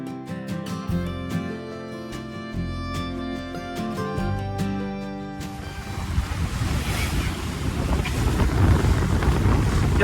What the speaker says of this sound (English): the wind's blowing nicely, and we're having a fantastic sail.